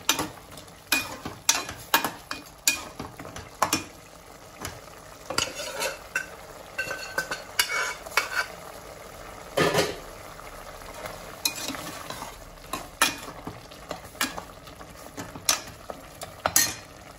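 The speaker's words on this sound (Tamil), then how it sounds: "நல்லா வெந்துடுச்சு நல்லா கலந்து விட்டுக்கலாம்" A utensil stirs goat leg curry in a pan, with sharp repeated knocks and scrapes against the metal over a constant low sizzle, close and fairly loud, with no talking.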